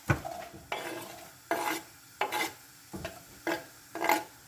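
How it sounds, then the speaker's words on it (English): Onions hitting hot olive oil for a Ugandan katogo with frozen cassava: a steady background sizzle broken by roughly six scraping stirring strokes, each a short bright burst, close and moderately quiet with no voices. "So I've got olive oil in there, and I'm going to put some onions."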